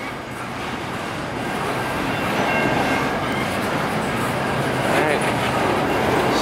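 An eastbound Amtrak passenger train passes nearby, close by a Norfolk Southern freight train, giving a steady, loud rumble of rolling wheels and rail noise that builds slightly and holds, with faint clickety-clack and no speech.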